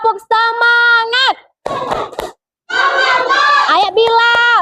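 Children chant and clap together in a rhythmic spirit clap led in a classroom, with bursts of young voices in sung syllables broken by short pauses and quick hand claps, loud and close.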